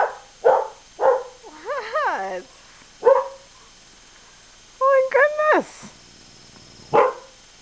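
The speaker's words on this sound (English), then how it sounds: "Are you barking at me now?" Bella the dog gives a few short, sharp barks at close range, spaced out over several seconds and mixed with a couple of drawn-out, rising whiny yelps.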